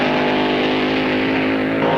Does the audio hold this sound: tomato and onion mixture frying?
no